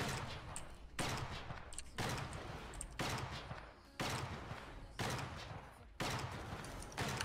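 Gunfire in the war game Foxhole comes as six heavy bursts, each starting sharply about a second apart and then rumbling on, loud and steady from start to end.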